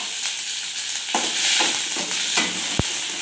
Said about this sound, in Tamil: எண்ணெய் ஊற்றி வறுத்துக்கலாங்க. அதுதான் நல்லா சவுண்டு வருங்க